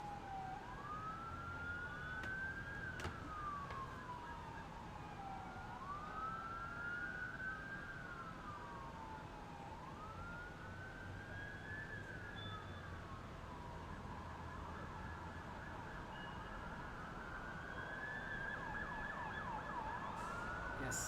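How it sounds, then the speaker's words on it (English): Emergency vehicle sirens wail on a city street, rising and falling in a steady repeating cycle at moderate distance over constant traffic rumble, with no voices. "Yes, sirens, more sirens."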